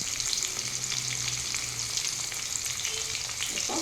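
Cumin and mustard seeds fry in hot oil for a Tamil lentil-ball gravy, giving a steady, close sizzle with faint crackles throughout.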